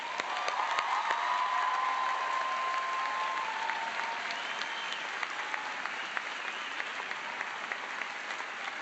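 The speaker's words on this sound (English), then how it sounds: "I'd like to ask that you join me in giving a round of applause to those people who supported us" Commencement audience at Cambridge College breaks into sustained applause, a steady dense wash of clapping from a large crowd with a faint tone lingering early on.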